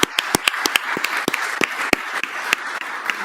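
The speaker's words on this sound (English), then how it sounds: "Give yourselves a big round of applause." Scattered audience applause at a school committee meeting for student representatives, with sharp individual claps standing out over a softer bed of clapping throughout.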